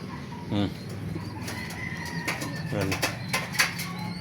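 Pet pigeons in their loft make several bursts of wing flapping, with soft cooing under someone talking nearby in a busy, close space.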